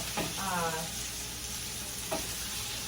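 Garlic sizzles in a pan with a faint, even hiss, set against two brief scraping stirs.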